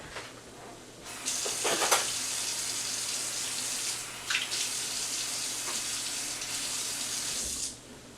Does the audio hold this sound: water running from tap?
yes